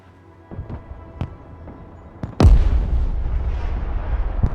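Artillery fire in the video game Broken Arrow: a few faint pops and thumps, then one loud, close boom at about two and a half seconds, followed by a long rumbling roar that holds to the end.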